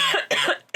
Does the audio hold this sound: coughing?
yes